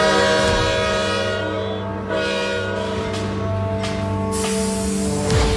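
A train runs steadily on the route toward the Death Railway gorge in Kanchanaburi, its loud sustained horn sounding over the continuous rumble of the carriages, close and alone.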